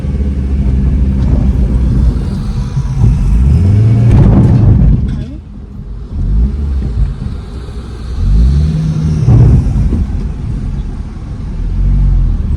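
A car with a damaged tyre rumbles steadily and revs up twice, with voices talking over the motor noise.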